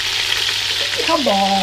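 Chicken pieces browning for an Italian-style chicken dish give a loud, steady sizzle from a frying pan throughout, and a voice briefly speaks over it near the end.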